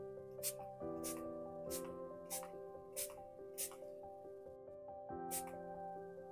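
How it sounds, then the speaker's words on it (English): A spray bottle mists water onto Brusho watercolour paint in about seven short, soft hissing bursts spaced roughly a second apart, heard over quiet background music. "So let me start spraying."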